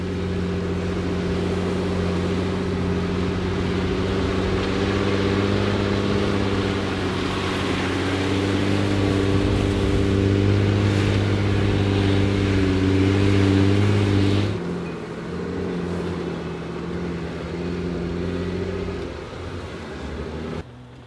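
A vehicle stuck on a deep, muddy mountain track drones loudly and steadily with a strong, humming engine tone, then drops to a lower, rougher level partway through before fading slightly at the end.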